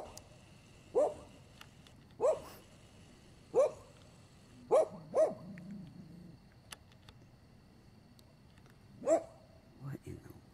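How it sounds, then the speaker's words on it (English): Neighborhood dogs barking at a distance, a handful of sharp separate barks spaced unevenly across the stretch, with a cluster near the end, over faint background noise. "I've got the neighborhood dogs going."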